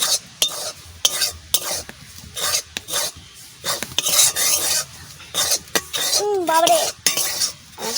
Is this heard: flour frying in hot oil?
yes